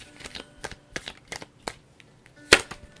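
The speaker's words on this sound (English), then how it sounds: "One more shuffle." Tarot cards are shuffled by hand in a quick series of close, crisp riffling flicks, with one sharper snap near the end, no talking.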